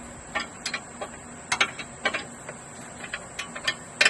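A hand ratchet removes transmission bolts under a vehicle, producing irregular, close runs of sharp clicking strokes separated by brief pauses.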